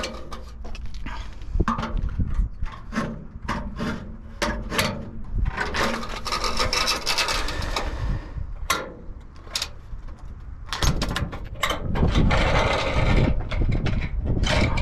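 Vinyl siding is cut to length during an installation over a roof, giving a string of close, crunchy, rasping bursts with short gaps between them.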